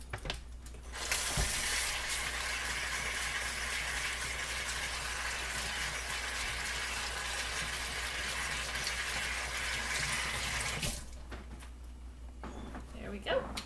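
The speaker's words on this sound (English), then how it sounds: "so I'm going to be washing my hands again" Kitchen tap water gushing steadily while hands are washed, a loud continuous hiss that starts after a second and stops abruptly near eleven seconds, followed by faint kitchen clatter.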